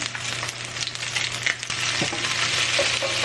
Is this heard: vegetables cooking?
yes